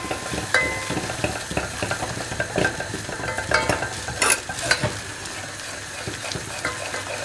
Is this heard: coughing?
no